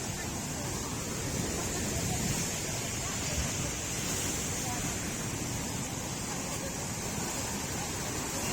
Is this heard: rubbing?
no